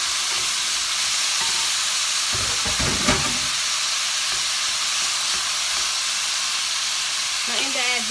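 Tomatoes drop into onions frying in a pan, a steady close sizzle that swells into a brief louder hissing burst of steam and scraping as they hit the hot oil, then settles back to a constant fry.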